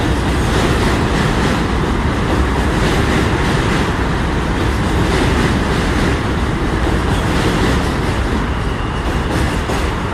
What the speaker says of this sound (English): And there you are, that's the J train.